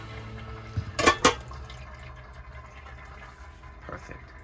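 Water drips and trickles faintly through a Berkey Travel gravity water filter, a soft steady patter with a brief cluster of louder clatters near the start.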